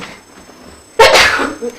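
A single loud sneeze bursts out abruptly after a quiet stretch of room tone in a school board meeting, followed by a brief smaller sound as it trails off.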